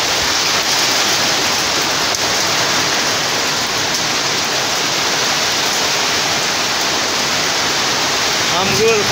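Sudden Kalbaisakhi storm with heavy rain and hail falling on a mango orchard, a dense, loud, unbroken hiss of downpour lasting throughout.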